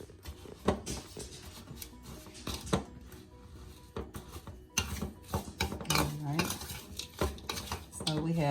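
Apple crumble topping with lumps of brown sugar is tossed and stirred in a bowl, with repeated close scraping, clinking and rattling of a utensil against the dish in uneven bursts and no speech.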